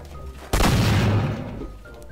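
A single loud, sharp gunshot blast from a video game gun in Garry's Mod bursts in after a brief quiet hum, then decays into a rumbling tail.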